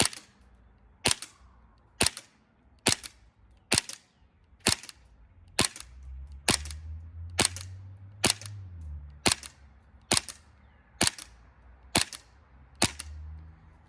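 USHOT TP22 gas blowback airsoft pistol emptying a magazine, about fifteen sharp, evenly spaced cracks roughly one per second, each with a crisp snap, close and loud over faint low background rumble.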